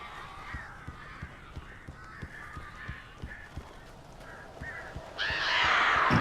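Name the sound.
birds calling in Alan Wake video game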